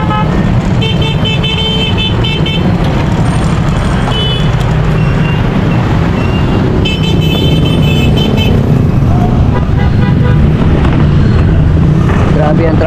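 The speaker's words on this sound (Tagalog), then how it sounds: "Grabe ang traffic" Heavy city traffic roars close by with engines and wind buffeting, and several short car horn toots stand out along the way while people talk intermittently.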